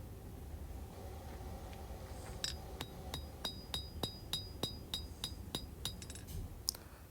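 Hammer forging a Bowie knife blade on an anvil, a steady series of about fourteen bright metallic rings, evenly spaced and fairly close, over a low background hum.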